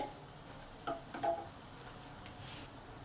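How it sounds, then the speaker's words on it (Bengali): Onions frying in a pan for a shushni greens dish give a soft, steady sizzle with a few light stirring taps, quiet and close, with no talk. "পেঁয়াজগুলো আমার ভালো করে ভাজা হয়ে গেছে।"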